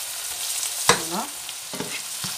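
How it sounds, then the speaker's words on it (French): Vegetables, including carrot and garlic, simmering in a pan after water is added to deglaze: a soft, continuous bubbling hiss with one sharp knock and a few light stirring scrapes, close and without voices. "Une fois qu'on a mis l'eau, on laisse mijoter avec la petite chaleur qu'il y a là."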